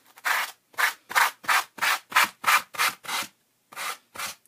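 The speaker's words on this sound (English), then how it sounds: "just raising it up a little bit, I've got my 100 grit sandpaper." Hand sanding a book with 100 grit sandpaper during a book restoration: ten short, even rasping strokes in a steady rhythm with a small gap before the last two, close and clear with no talk.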